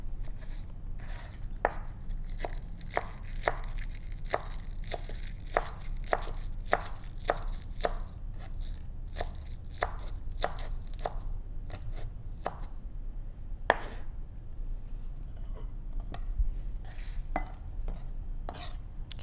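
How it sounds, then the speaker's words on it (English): A knife chops green onion on a cutting board in quick, regular strikes that come close and clear. Short pauses break the rhythm now and then over a low room hum. "but then I will still chop it up"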